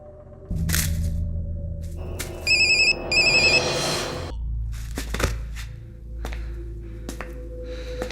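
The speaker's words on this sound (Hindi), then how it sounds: "भाई रिंग बज रही, वो उठा नहीं रहा है।" A phone ringtone trills in two short electronic bursts amid a low rumble and scattered clicks and knocks.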